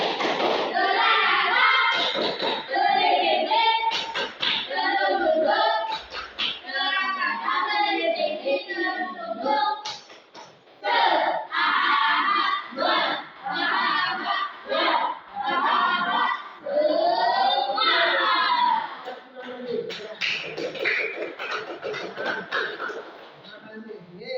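Children do a rhythmic spirit clap and cheer in a classroom, with patterned bursts of hand claps and table thumps mixed with loud chanted voices. The sound is close and energetic, with brief pauses between rounds.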